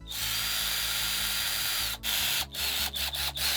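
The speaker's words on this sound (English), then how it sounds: "I'm gonna drill my first ever barrel." A small hobby hand drill bores into a miniature model barrel, giving a steady high-pitched whir that cuts out and restarts several times near the end, close and clear with no talk.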